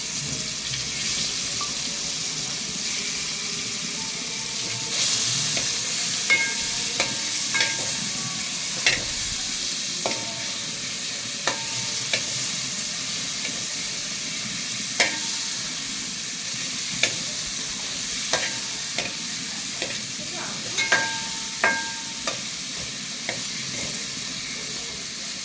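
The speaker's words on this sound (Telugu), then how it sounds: "ఒక ప్యాన్లో కొంచెం ఆయిల్, మనం ఇందాక మిక్స్ చేసి పెట్టుకున్న పన్నీర్ని కొంచెం ఫ్రై చేసుకుందాం." Paneer frying in oil in a pan for a paneer biryani, a steady sizzle running throughout with scattered clicks and taps of stirring utensils against the pan.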